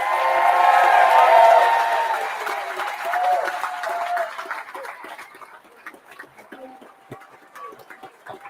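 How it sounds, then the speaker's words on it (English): A crowd at a political party launch in Newcastle breaks into loud applause with some cheering, strongest at the start, then thinning out and fading to scattered claps by the end. "Now you can clap."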